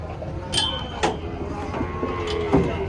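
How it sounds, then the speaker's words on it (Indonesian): Cattle lowing during loading onto a truck, with a few short moos rising over steady background noise and faint clinks of metal, voices of handlers murmuring nearby. "Proses muat sapi naik truk."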